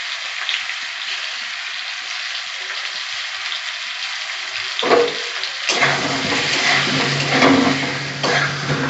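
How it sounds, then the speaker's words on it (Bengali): Pointed gourd (potol) frying in a covered pan with turmeric and salt, a steady loud sizzle throughout that swells with bursts of crackling and clatter in the second half, no voices. "আমি এবার পটলগুলো ভেজে নিচ্ছি, একটু ঢাকা দিয়ে ভেজে নিচ্ছি।"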